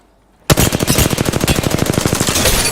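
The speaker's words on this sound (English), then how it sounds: "I'm under fire. Being shot at." Automatic gunfire in the Apex Legends video game starts abruptly after a brief quiet moment, then rattles on as a loud, rapid, evenly spaced burst of close shots with no talking.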